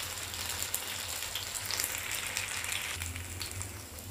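Chicken frying in a pan, giving a steady, dense sizzle with constant crackling and popping, close and continuous throughout, with no talking.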